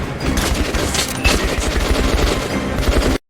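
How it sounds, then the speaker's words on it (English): Dense, close gunfire from the video game Metro Last Light Redux: rapid automatic bursts and heavy shots run continuously and loudly for about three seconds, then stop abruptly. "Nice shots"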